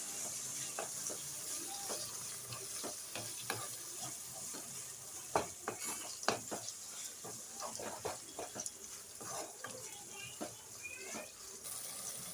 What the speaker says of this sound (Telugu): పసుపు, టమాటా అయితే వేసుకున్న తర్వాత దీన్ని అంతా నీట్గా మిక్స్ చేసుకొని కొద్దిగా ఫ్రై